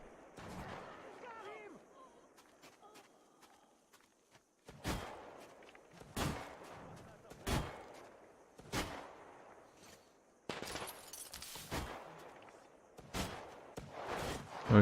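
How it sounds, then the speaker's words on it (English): Single gunshots crack out one after another at spaced intervals in the video game Metro Exodus, sharp and fairly loud, following a quieter stretch with some low talk near the start. "We're hearing shots, so there's definitely someone still alive."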